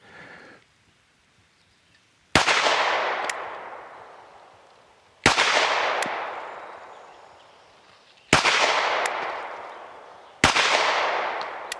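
Four loud, sharp gunshots are fired at a target at an outdoor range while a HEX Wasp red dot is being zeroed. The shots come a few seconds apart and each leaves a long fading echo.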